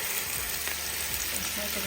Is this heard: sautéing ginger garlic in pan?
yes